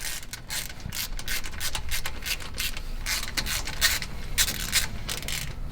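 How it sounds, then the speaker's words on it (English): A ratcheting wrench with an extension turns a spark plug socket on an engine damaged by too much nitrous, giving a steady run of close, rapid clicking and metallic ratchet rasps with no talk. "I'm going to grab a little extension and my spark plug socket ratcheting wrench"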